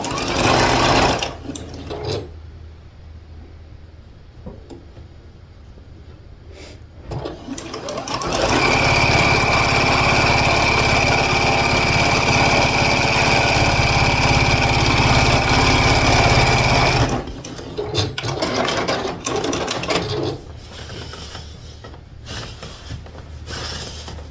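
A domestic sewing machine sews quilt fabric strips on with a quarter-inch seam, running in one sustained, steady whir for about nine seconds. Quieter handling noises from the fabric come before and after the run.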